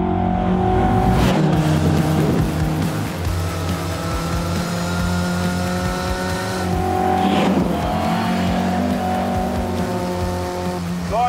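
A Mark 1 Lotus Cortina racing around Cadwell Park circuit on a sunny day, a loud close engine rising and falling through gear changes, with brief tire squeals and no talk.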